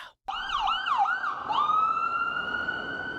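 An ambulance siren wails in rising and falling sweeps, then settles into a long, steady high tone, loud and close, playing from a video clip.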